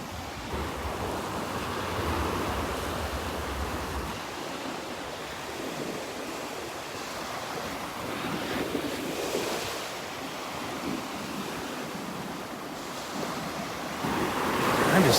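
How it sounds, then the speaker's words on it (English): Gulf of Mexico surf rolls onto a North Naples, Florida beach in a steady, broad wash, with wind buffeting the microphone and a louder surge breaking at the end. "Just the sound of the waves"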